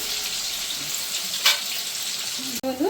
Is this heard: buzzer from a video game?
no